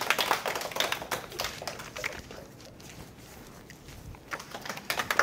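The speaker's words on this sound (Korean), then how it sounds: "선물도 드리겠습니다. 박수!" Scattered clapping from a small audience at a prenatal class on using strollers and car seats, sharp uneven claps loudest at the start, fading in the middle, then picking up again briefly at the end.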